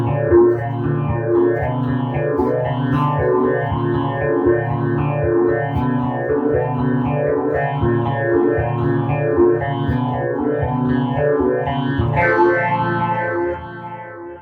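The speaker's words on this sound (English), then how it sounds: "It's like delay and reverb with a little modulation touch, all built in one." An electric guitar plays repeating arpeggiated phrases drenched in echoing delay and lush reverb, notes smearing into a shimmering wash before fading out.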